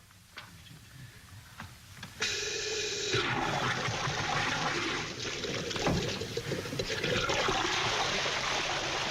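Water gushes through a city pipeline as a valve opens, a sudden loud rushing surge that starts after a quiet moment and keeps flowing steadily with trickling splashes.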